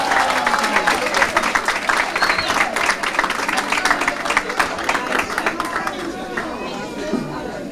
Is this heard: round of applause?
yes